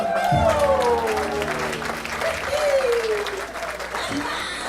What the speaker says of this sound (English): Give yourselves and Biff a hand.